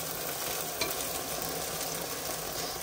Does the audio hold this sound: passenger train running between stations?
no